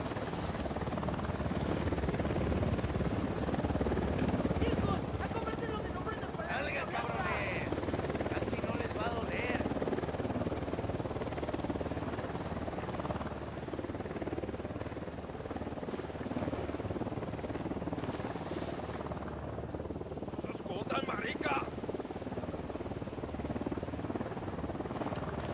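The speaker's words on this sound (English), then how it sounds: "Helicopter incoming." A video game helicopter's steady rotor drone fills the whole stretch, loud and constant, with brief higher chirps now and then over the top.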